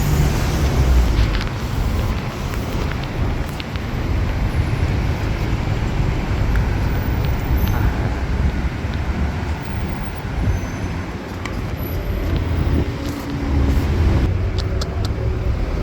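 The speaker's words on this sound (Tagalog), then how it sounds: "Traffic." Road traffic in Saudi Arabia gives a loud, continuous roar of passing vehicles and engines that swells and fades slightly over the whole stretch.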